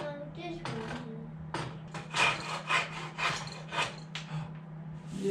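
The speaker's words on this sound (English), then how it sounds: "Now, go get your saw." A young child working a hand saw through a small piece of wood in a home shop, making a string of uneven rasping strokes close up, with adult voices speaking softly in between.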